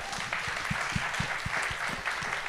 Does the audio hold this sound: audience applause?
yes